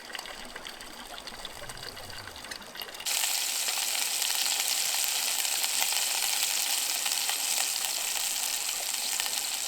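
Fish frying in a pan over a campsite fire: after a few seconds of quieter outdoor background, a loud, steady sizzling hiss sets in and holds without a break.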